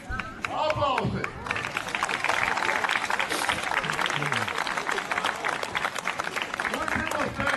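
Audience applause at a sports games event, a dense steady patter of many hands clapping that fills the whole stretch, with voices calling out over it near the start.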